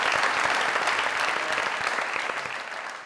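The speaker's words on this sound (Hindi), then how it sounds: "जोरदार तालियां आज की गेस्ट" Enthusiastic applause from a studio audience on a comedy talk show welcoming a guest, dense continuous clapping that slowly fades over a few seconds.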